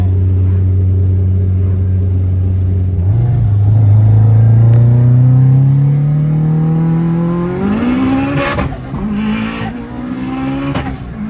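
A 908whp Subaru STI roars loudly as its engine revs and climbs under hard acceleration, pitch rising steadily before a flat-foot shift and aggressive revving bursts with tire squeal.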